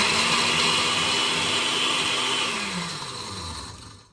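Dried shrimp being ground into flour in a blender, a loud steady whirring grind running close and alone, then the motor winding down and tapering off at the end.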